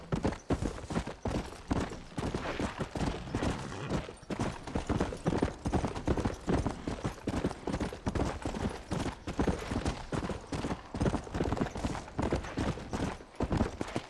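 Horse hooves clip-clop steadily and briskly in the video game Red Dead Redemption, a continuous rhythmic trot of fairly faint, close hoofbeats with no voices over them.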